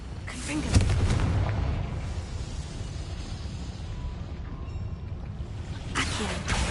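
A Confringo fire spell blasts in the video game Hogwarts Legacy, a loud booming burst near the start followed by a sustained rumbling roar and crackle that swells again at the end.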